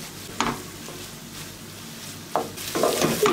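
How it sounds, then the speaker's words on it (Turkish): Bulgur with tomato and oil roasting in a pan, a soft steady sizzle broken by a few scraping stirs of a utensil, close and fairly quiet. "bulguru da bir süre kavuracağım"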